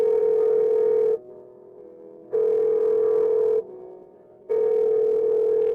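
Telephone ringback tone while a call is being placed: three long, steady electronic tones separated by quiet gaps, clear and close with no talk over them.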